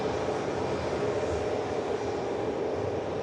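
A Ryanair airliner settles onto the runway after touchdown, a broad, steady roar of engines and rushing air holding at one level throughout, heard alone.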